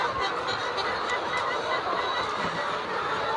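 A dense flock of cage-free hens at an egg farm clucks and squawks continuously and loudly during feeding, a crowded, unbroken wall of overlapping bird calls.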